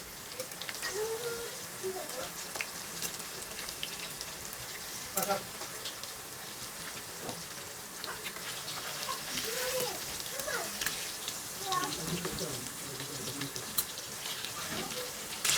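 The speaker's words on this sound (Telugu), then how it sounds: "ఫిష్ త్వరగా ఫ్రై అయిపోతుంది, అది గమనించారా మీరు?" Fish pieces frying in oil in a pan, a steady close sizzle with occasional crackles and the scrape of stirring running throughout.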